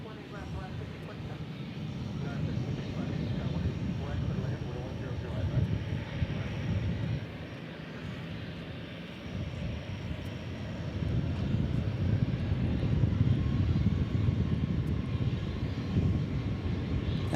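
A Viva Aerobus airliner passes at DFW International Airport, a broad rumbling jet roar that swells, dips briefly and then builds louder toward the end, heard from a distance outdoors.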